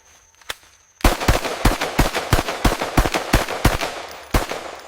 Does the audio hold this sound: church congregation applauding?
no